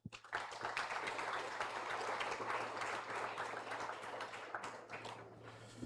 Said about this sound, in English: Please join with me to give Professor Beasley a round of applause.